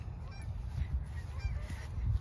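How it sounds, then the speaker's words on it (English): Canada geese honk repeatedly in a clamorous flock, a dense run of overlapping calls heard outdoors at moderate distance. "Those are Canadian geese."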